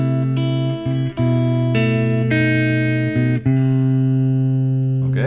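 Acoustic guitar strumming the chords of a song, measures four and five: sustained ringing chords changing every second or so, with brief gaps between changes, close and clear, no voice.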